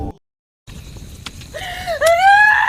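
A woman cries out in pain from an injury: after a short silence, drawn-out wavering wails rise and fall, growing louder and close, with no talking.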